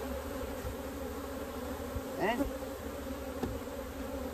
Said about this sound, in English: Shake off almost all the bees.